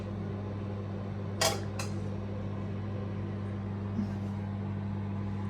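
A microwave oven runs in a home kitchen, giving a steady, even low hum. A short clatter breaks in near the start, and there is no talking.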